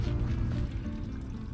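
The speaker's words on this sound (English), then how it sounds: "First thing we're doing is going to empty our gray water tank from our sink." Gray water from a vehicle's sink tank drains out in a steady, rushing flow with a low rumbling wash, fairly close and continuous, and no voices.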